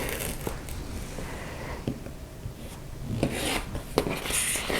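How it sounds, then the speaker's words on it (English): A rotary cutter rolls through quilting fabric for a sunflower block, making a soft, close scraping rasp in several short strokes against a cutting surface. "I'm just going to cut this with my rotary cutter"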